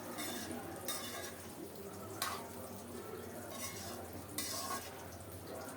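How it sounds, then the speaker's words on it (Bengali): Vegetables being stirred in a cooking pan with ghee, giving a steady scraping and clinking of a spoon against metal, with a few louder utensil knocks over a constant background hiss. "ভালো করে নেড়ে চেড়ে সব কিছু মিশিয়ে দেব"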